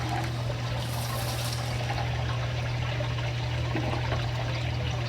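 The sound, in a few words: water flowing from saltwater aquarium overflow return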